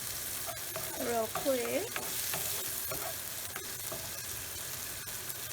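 Ampalaya (bitter melon) sautés in a pan with a soft, steady sizzle and some stirring, fairly quiet and close, while a voice speaks briefly over it.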